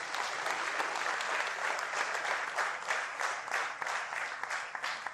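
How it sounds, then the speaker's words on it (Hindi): Audience at a panel discussion event breaks into loud, sustained applause, many hands clapping densely and continuously without voices over it. "एक बार इनके लिए जोरदार ताली"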